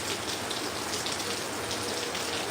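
Heavy monsoon rain with a light wind pours steadily in Kozhikode, a dense, unbroken hiss and patter that stays loud and even from start to finish.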